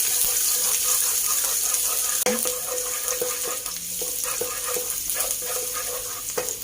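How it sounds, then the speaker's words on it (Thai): Chopped Chinese garlic frying in pork lard over low heat in a wok, a steady close sizzle with scattered spatula scrapes and clinks throughout. "เจียวกระเทียมให้เหลืองเลยค่ะ"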